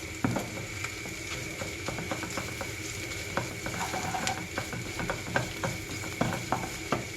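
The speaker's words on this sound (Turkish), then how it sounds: "Bir de ununla şöyle karıştırıyorum" Tomato paste, pepper paste and flour being stirred together for chicken keşkek, giving a steady run of close, sharp scraping and clicking strokes against the pan in an uneven rhythm.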